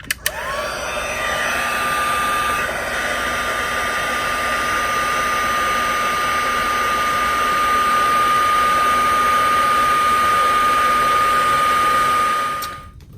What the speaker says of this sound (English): I'm going to get the heat tool and then make that puff up.